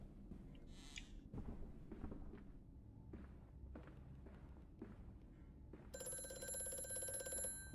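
A telephone rings in the horror game Amnesia: A Machine for Pigs, a steady electronic bell tone entering late after a stretch of soft game footsteps and thuds, moderately loud and without talk.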